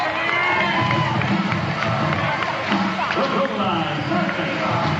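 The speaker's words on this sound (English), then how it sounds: "Hey, this crowd is right into it tonight" A baseball crowd at a Winnipeg Goldeyes home game against the Gary SouthShore RailCats cheers and whoops steadily, a dense, loud roar of many voices that holds through the whole stretch with scattered shouts rising above it.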